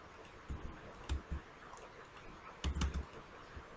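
Numbers being typed on a computer keyboard for an Excel spreadsheet, a few soft separate keystroke clicks in two small clusters, close but quiet, with no talking.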